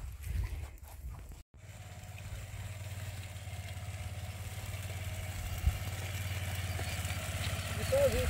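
A motorcycle engine idles with a low, steady rumble throughout, close by, with a brief interruption near the start.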